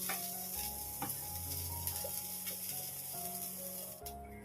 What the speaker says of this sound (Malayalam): നമുക്കിനി ഈ നാളികേരം ഒന്ന് ഫ്രൈ ചെയ്തെടുക്കാം